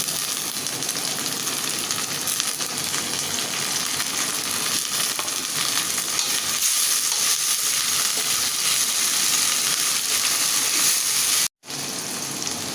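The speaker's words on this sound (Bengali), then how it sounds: "আমি এখন চিংড়ি মাছ দিয়ে দেবো" Prawns frying with water spinach in a pan give a loud, continuous close sizzle and spitting hiss that holds steady throughout, broken only by one brief cutout near the end.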